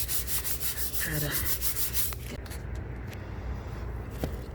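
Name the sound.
scrubbing a wall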